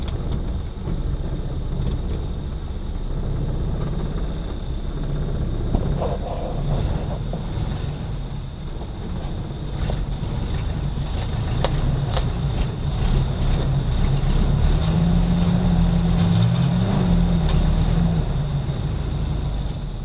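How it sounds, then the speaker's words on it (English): A Jeep engine runs close by in a steady, continuous low rumble for the whole stretch, with no clear break or clunk standing out and no voices. "I'm going to try to put it in gear and see if it goes into gear"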